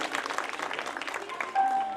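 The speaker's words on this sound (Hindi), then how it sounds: "तो संबोधित करें तो जोरदार तालियों से स्वागत करें अमीशा फारूक का।" Dense, lively applause from an audience at a school Independence Day event welcoming a speaker, many hands clapping together, fading into a steady thin tone near the end.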